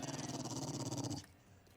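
A dog growling in the video game 7 Days to Die, a low rumbling snarl held for about a second before cutting off, close and moderately loud, with no talking.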